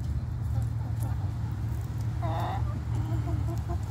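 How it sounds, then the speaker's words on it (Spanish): Farm hens cluck amid a steady outdoor background hum, with one clearer cluck standing out midway, moderately close and no talk over it. "Tan bonita la gallina."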